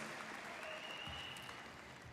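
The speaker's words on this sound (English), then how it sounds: "So give yourselves a hand." An audience at a spring college commencement ceremony applauds the graduates, a soft, distant wash of steady clapping that fades slightly toward the end.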